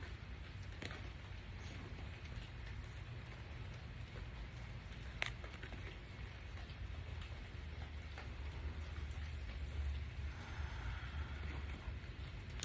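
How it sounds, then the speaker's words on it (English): Rain begins falling outdoors as a faint, steady wash of patter, with a few sharper drop ticks scattered through it. "It's starting to rain."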